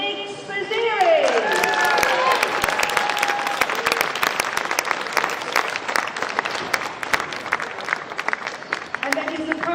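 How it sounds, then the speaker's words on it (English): A squash championship crowd applauds a finalist, sustained dense clapping rising after a brief musical or announcer tone and carrying steadily through, with scattered sharper claps near the end. "Please give a huge round of applause for Nick Bazziri."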